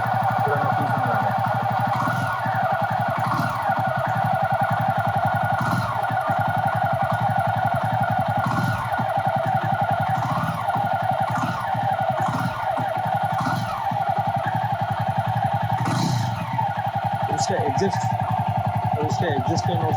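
Jawa 42 motorcycle idling close by, a steady loud exhaust drone with an even pulse, while someone talks over it throughout.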